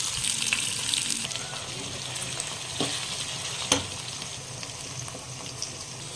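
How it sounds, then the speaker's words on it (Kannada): Garlic, curry leaves, mustard seeds and onion fry in oil in a pan, a steady close sizzle with occasional stirring scrapes and clinks, no talking over it. "ಬೆಳ್ಳುಳ್ಳಿ, ಒಗ್ಗರಣೆ ಸೊಪ್ಪು, ಆನಿಯನ್ ಫ್ರೈ ಮಾಡ್ಕೊಳ್ಳಿ"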